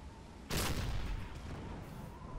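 A deck gun firing in Silent Hunter 3, a World War II U-boat simulator: a single heavy boom followed by a long rumbling decay over constant sea and engine noise, somewhat muffled and distant.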